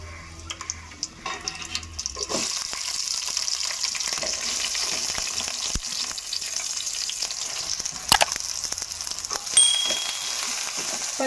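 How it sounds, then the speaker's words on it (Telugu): Green chillies and sliced onions sizzle and fry in hot oil, a steady close crackle with occasional stirring scrapes and brief water splashes. "పచ్చిమిర్చి ఉల్లిపాయలు వేసేసుకొని ఫ్రై చేసేసుకోవాలి."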